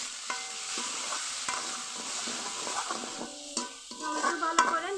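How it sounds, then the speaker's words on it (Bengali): Chopped onion and tomato sizzle steadily in hot oil while being cooking crabs, with a spoon scraping and stirring the pan in repeated clacks over the continuous frying hiss. "তেল গরম হয়ে গেছে, দিয়ে দিব পেঁয়াজ কুচি, টমেটো কুচি"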